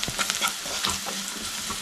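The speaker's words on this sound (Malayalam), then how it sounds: "ഒരു 1/2 ടീസ്പൂൺ മഞ്ഞൾപ്പൊടി, 1 ടീസ്പൂൺ മുളക് പൊടി ഇട്ട ശേഷം നമുക്കൊന്ന് മിക്സ് ചെയ്ത് കൊടുക്കണം" Turmeric and chili powder stirred into ivy gourd frying in a pan for kovakka masala curry: a loud, close, continuous sizzle broken by scraping stirring strokes.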